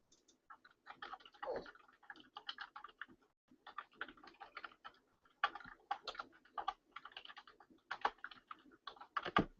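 Close, quiet typing on a computer keyboard sounds as irregular bursts of light key clicks with short pauses, steady for several seconds, with no voices.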